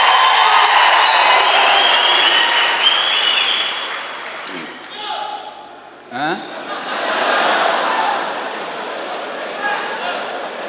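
Crowd at a Dharwad police event applauding and cheering as a PSI second-rank holder comes on stage, a loud sustained wash of clapping and shouts that dips midway, with voices and laughter mixed in.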